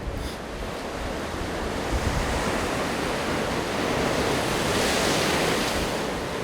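Waves crash continuously on the East Sea coast, a dense, steady roar of surf mixed with wind buffeting that swells slightly louder toward the end, with no voices.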